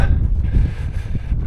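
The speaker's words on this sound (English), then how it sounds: "Bit windy up here." Strong gusts on a hilltop near Blakey buffet the microphone with a continuous low, rumbling roar that swells and eases slightly, loud and close.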